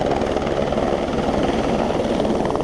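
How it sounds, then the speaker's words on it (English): A helicopter roars continuously nearby on a flight to Lukla, Nepal, its dense rotor and engine noise steady and loud with a rapid chopping texture. "we are going to go on the helicopter"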